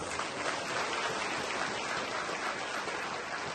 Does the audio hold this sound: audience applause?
yes